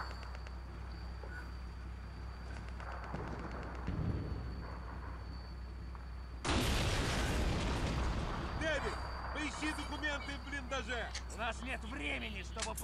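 A deep explosive boom bursts out midway through a Call of Duty 2 soundscape, followed by rumbling debris and scattered shouting voices.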